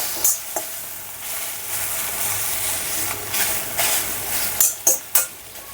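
Tamarind and tomatoes cook in a pan for an eggplant chutney. A steady close sizzle is broken by sharp spatula scrapes and taps against the pan, with a cluster of taps near the end.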